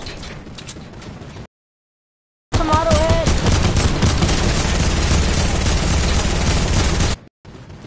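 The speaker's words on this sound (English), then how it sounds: "I hear some gunshots already." Rapid bursts of video game gunfire rattle loudly and continuously for several seconds after a brief silence, with dense overlapping shots.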